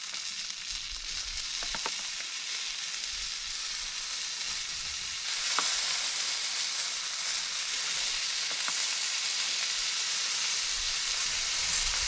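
Barbecue sauce sizzles on baby back ribs cooking on a Big Green Egg, a steady close hiss and crackle that swells slightly midway, with a few faint pops and no talking.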